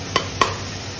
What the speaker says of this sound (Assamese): পাতল পাতলকৈ ঢেকীয়াখিনি কেৰাহীখনত ভালদৰে মেলি